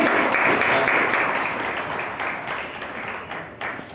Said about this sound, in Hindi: तालियों में कमी नहीं होनी चाहिए, प्लीज एवरीबॉडी।